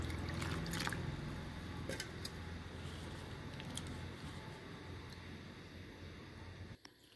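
Grapes are rinsed in ordinary water, a faint, steady trickle and wash of running water with a few light splashes and clicks throughout, nothing else prominent.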